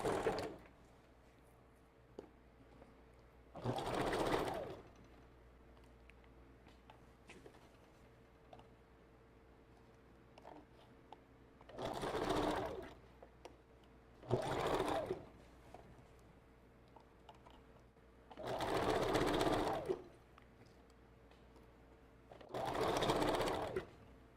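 A sewing machine back stitching while a glueless wig is made: five separate whirring bursts of stitching, each a few seconds long, with quiet pauses in between.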